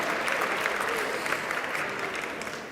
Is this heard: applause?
yes